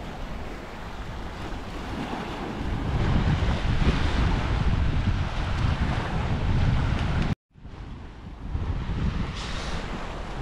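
Sea waves splashing against the rocky Bermuda shore near Hamilton on Shelly Bay trail, a continuous rushing surge with gusty wind buffeting the microphone, briefly cut off and then resuming.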